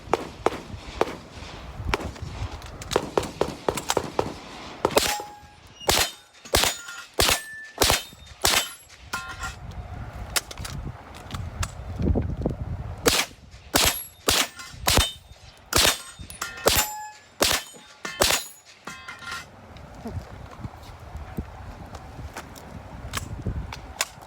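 A Ruger PC Carbine, a pistol caliber carbine, fires rapid sharp shots at steel targets during a shooting stage, each crack followed by metallic clangs and dings, coming in quick strings and irregular bursts.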